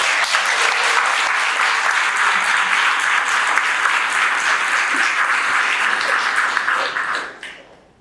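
An audience at a 2024 awards ceremony applauds in a full, sustained burst of clapping that stays even for several seconds, then fades out quickly at the end.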